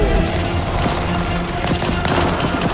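Dense, continuous automatic gunfire from a Rainbow Six Siege firefight, loud and close, with rapid overlapping shots filling the whole stretch and no talk over it.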